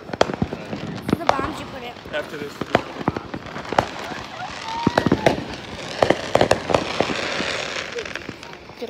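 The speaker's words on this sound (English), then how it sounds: "Opening another pack of fireworks. There's a lot of fireworks." Fourth of July fireworks crackle and pop in rapid, irregular bursts, some sharp bangs close by from a cannon, while a person speaks briefly over the noise.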